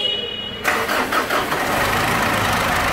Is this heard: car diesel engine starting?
yes